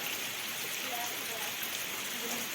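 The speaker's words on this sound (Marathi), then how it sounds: "आज आमच्याकडं पाऊस एकदम कंटिन्यू आहे बघू शकता" Continuous monsoon rain falls during days of nonstop downpour in a Konkan farming village, an even, unbroken wash of hiss that stays steady throughout.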